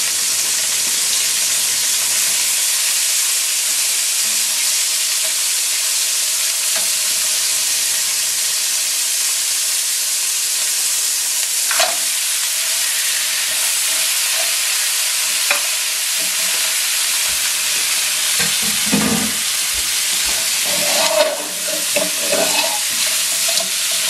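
Crab fries in a wok for sweet chili basil crab, giving a loud, constant hissing sizzle, with clattering stirs and scrapes scattered throughout.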